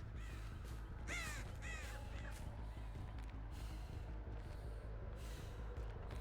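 Several crow-like caws in the video game Dead by Daylight ring out in the first two seconds over a steady low rumble, then fade into continuous background noise.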